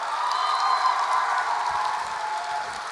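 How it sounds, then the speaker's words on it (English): Steady, loud audience applause for a poet at a slam poetry competition, a continuous wash of clapping with scattered cheers throughout. "please keep that applause going"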